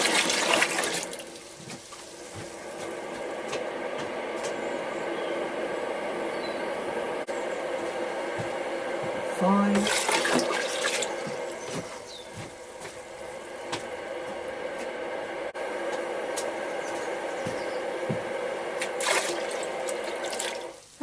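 Cold tap water running into a home-brewing boiler to top it up, a steady close rush of filling water lasting the whole stretch, with one short spoken count.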